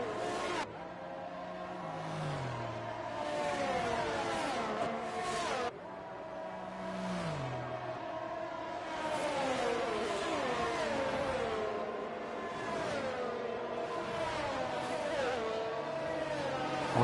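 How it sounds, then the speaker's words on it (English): An Aston Martin race car engine in a sim racing game drones and revs continuously, pitch sweeping up and down through gear changes, with one abrupt cut partway through before resuming. "that Aston Martin does sound nice"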